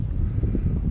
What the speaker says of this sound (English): I'm not sure if you can hear the wind in the background.